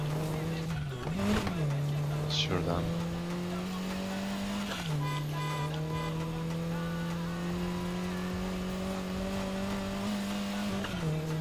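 A Mercedes A45 AMG engine drones in Need for Speed Heat, holding a steady pitch with brief dips and rises at gear changes and a short tire squeal near the start, loud and continuous, with one brief spoken word.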